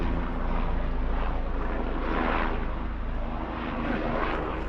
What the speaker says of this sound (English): Ooh, the helicopter or something coming.